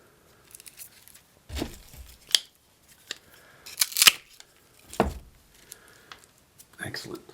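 Scissors snip damaged parts off dahlia plants: several crisp cuts and rustling, handling noises spread over a few seconds, close and moderately loud, with quiet gaps between.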